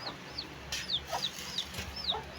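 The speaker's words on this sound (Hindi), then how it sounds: "हमारा मुर्गा" A rooster and hens cluck nearby in a short burst of soft, repeated clucks and chirpy calls over a quiet outdoor background.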